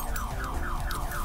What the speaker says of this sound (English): my key, for some reason, sets off this other dude's alarm in his car.